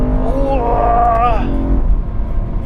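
A BMW M3 engine on a scenic road revs up below 7,000 rpm, its rising tone climbing and dipping over steady road and cabin rumble, heard from inside the car.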